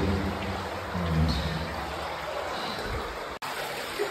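A strong underground river rushes steadily down into a cave sump, a continuous broadband wash of water held at an even level throughout, with a brief dropout near the end.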